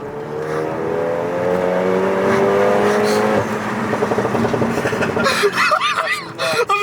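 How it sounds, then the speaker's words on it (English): Renault Megane RS engine accelerating while driving, a loud rising whine that climbs through the gears inside the cabin, with people talking and exclaiming over it toward the end. "James, why did you let me drive this?"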